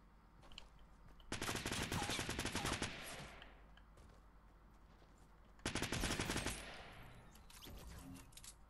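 Bursts of automatic gunfire in the battle royale video game Fortnite, two long loud volleys of rapid shots a few seconds apart, then a shorter burst near the end, with no talking.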